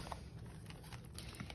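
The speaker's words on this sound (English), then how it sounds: "it is raining pretty hard right now" Steady broadband patter of hard rain drumming continuously, with no voices present.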